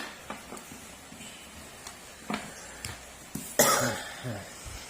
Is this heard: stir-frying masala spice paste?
no